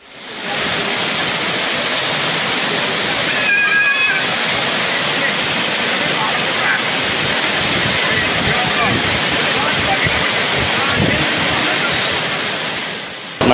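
Courtallam waterfall in flash flood after heavy rain, a loud, continuous roar of rushing, crashing water that stays dense and steady throughout.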